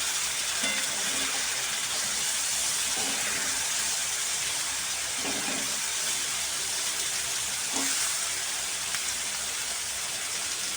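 Pieces fry in oil in a pan with a loud, continuous hiss, broken by occasional soft thumps and bubbling bursts.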